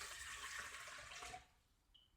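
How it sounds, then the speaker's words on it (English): Three cups of water dumped into a mixing bowl for bread dough, a loud close splashing pour that cuts off abruptly after about a second and a half, leaving near silence. "I'm gonna dump 3 cups of water, I've already measured it, into the bowl."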